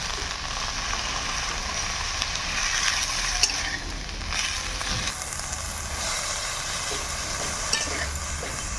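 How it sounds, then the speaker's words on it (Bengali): Leafy greens with salt and turmeric fry in a pan for an aloo, brinjal and bathua saak ghonto, making a continuous close sizzle broken by occasional scraping stirs, with no voices. "লবণ হলুদ দিয়ে শাকটাকে ভালোভাবে ভেজে নেব"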